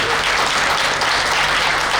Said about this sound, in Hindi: एक बार जोरदार तालियां बात नहीं बजाएंगे आप लोग